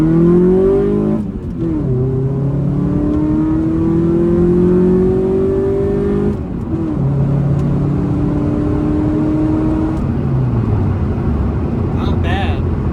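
A 1994–97 Honda Accord fitted with a new header accelerates hard on a road test drive. The engine note climbs steadily through the gears, with two brief shift breaks, and stays loud and close the whole time.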